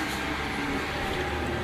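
A Sydney commuter train, set T105, rolls into a station with a steady low rumble and broad mechanical hiss, heard at a moderate distance with no voices.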